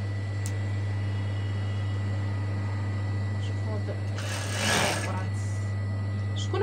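A sewing machine stitching a qandoura garment gives a steady, close motor hum with a louder whirring burst partway through, while a person talks over it.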